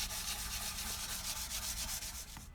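Guitar frets being rubbed with a flexible micro mesh hand sander of around 1500 grit, giving a close, soft, continuous scratchy swishing in repeated back-and-forth strokes that stops at the end.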